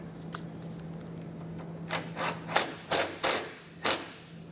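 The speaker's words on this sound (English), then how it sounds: "We'll take our bolt there and get this secured." A wrench tightens a bolt while air helper springs are installed on a 2024 vehicle, with about seven crisp ratcheting strokes close by, in irregular rhythm, after a quiet stretch with a steady hum.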